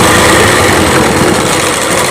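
A sewing machine runs steadily while stitching a Rajputi kanchali blouse, a continuous close whirring hum with no pauses.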